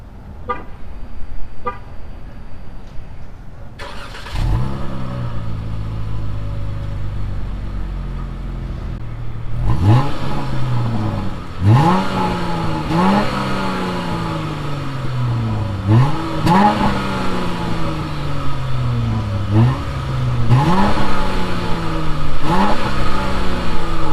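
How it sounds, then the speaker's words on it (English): A Dodge Charger GT's Pentastar V6 engine revs repeatedly, rising and falling in quick rhythmic bursts, loud and close, after a brief short horn toot at the start. "let's hear what that Pentastar V6 engine sounds like"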